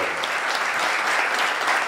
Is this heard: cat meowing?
no